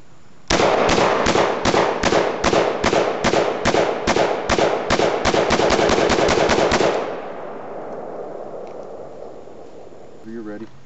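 Saiga 12 gauge semi-automatic shotgun with a 20-round drum firing cheap Walmart shells, about a dozen loud rapid booming shots in quick succession, followed by ringing echo and a brief metallic rattle.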